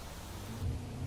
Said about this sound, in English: The rain is pretty hard, man. It's raining pretty good.